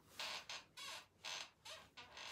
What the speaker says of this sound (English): Really do need to oil this stool.